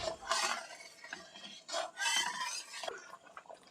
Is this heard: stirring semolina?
yes